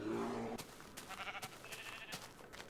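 A sheep in the Minecraft video game gives a short, nasal bleat up close, followed by quieter scattered clicks and game noises.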